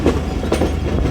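A passenger train on the Rawalpindi to Lahore route eases off the main line into platform 1, with steady rail rumble and repeated clickety-clack wheel beats over the joints, close and continuous.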